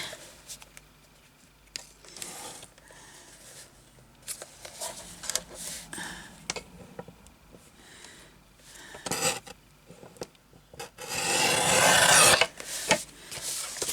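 Hand sawing or rasping of wood outdoors in woodland, a run of uneven scraping strokes with pauses, ending in a louder, sustained burst of close rubbing.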